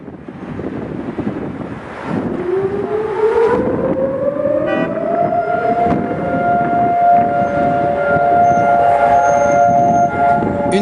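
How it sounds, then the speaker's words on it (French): Memorial sirens sound across Jerusalem on Holocaust Remembrance Day. Their long wailing tones rise and then hold steady, loud and sustained, over wind and distant street noise. "Une fois par an, à Jérusalem, le temps s'arrête quand retentissent les sirènes."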